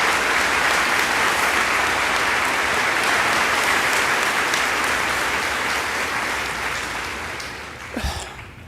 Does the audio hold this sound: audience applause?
yes